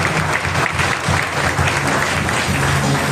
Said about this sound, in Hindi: फिर एक बार जोरदार तालियों से उसका स्वागत।